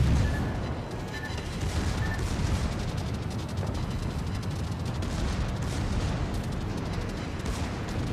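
Friendly torpedoes launching in a naval battle game, a dense continuous rumble of booming, crackling blasts that holds steady and loud throughout, with no voices over it.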